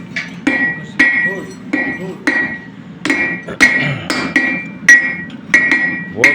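Steady hammer blows ring on metal at a forge, about two strikes per second, each a sharp clanging hit with a bright metallic ring, close and loud.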